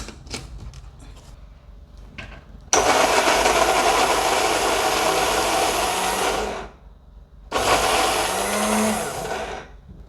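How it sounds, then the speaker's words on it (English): A kitchen blender roars loudly in two bursts, one about four seconds long and a shorter one after a brief pause, blending salad cream ingredients including apple cider vinegar and black pepper. "So if you are blending it, if you stop blending, just shake it and continue your"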